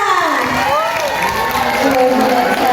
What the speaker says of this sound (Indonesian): Beri tepuk tangan sekali lagi buat Mareta.